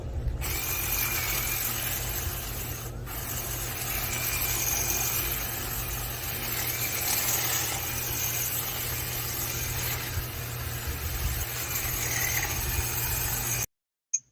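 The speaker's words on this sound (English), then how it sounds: "knocking out some of it with my Black & Decker hedge trimmer" A Black & Decker 22-inch cordless battery hedge trimmer runs steadily while cutting oak tree branches, giving a continuous buzzing motor drone that holds for about thirteen seconds, then stops abruptly.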